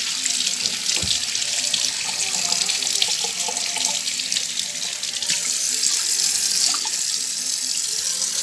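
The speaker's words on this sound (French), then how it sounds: "Excusez-moi, je vais laver un peu mes mains." Tap water runs steadily into a kitchen sink while hands are washed, a continuous splashing hiss with small shifts as the hands move under the stream.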